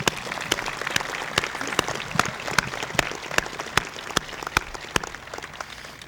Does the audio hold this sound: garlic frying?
no